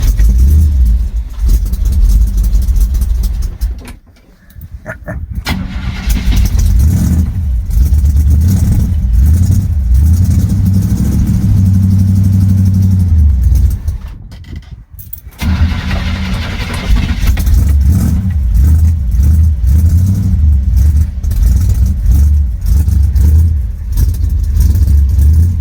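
A 1977 Chevy truck with a 454 big block V8 starts cold and idles, giving a loud, rough, rumbling low idle that briefly cuts out twice before settling into a steady, close drone.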